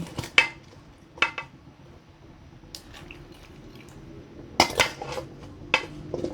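A few sharp clatters of cut lotus root pieces dropping into a pot, with scattered clinks and small splashes in between, close and fairly quiet.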